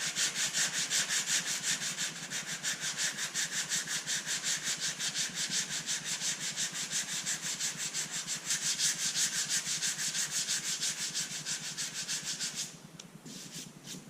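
Hand sanding with 150-grit sandpaper on a Ford Bronco body panel, a steady rapid back-and-forth rubbing scrape that continues closely and loudly throughout, easing off slightly near the end, with no talking.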